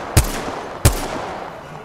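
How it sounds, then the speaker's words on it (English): Two sharp gunshots about two-thirds of a second apart in the shooter game Apex Legends, each a loud crack with a short decaying tail, no voices. "Dave's shooting."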